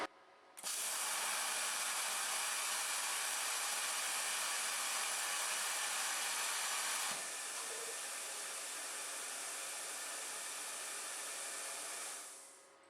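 A CNC plasma cutter with a torch height controller, set to maximum, gives a loud, steady, broad hiss that starts abruptly, drops slightly in level partway through, then fades out near the end.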